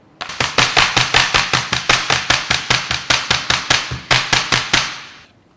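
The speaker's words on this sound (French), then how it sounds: "on va taper la plaque pour qu'il s'étale bien" A baking tray of macaron batter rapped repeatedly on a kitchen counter, around twenty-five sharp, evenly spaced loud knocks with a short gap near the end, close and without talking.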